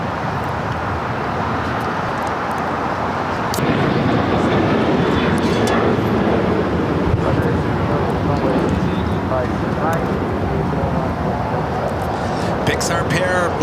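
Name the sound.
Boeing 737-800 jet taking off at LAX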